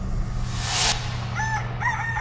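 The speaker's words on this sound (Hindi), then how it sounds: "अगली सुबह मुर्गे के आवाज से शुरू होती है।" A rooster crows once, its call rising and falling in a clear harmonic tone over a low steady hum, near and fairly loud.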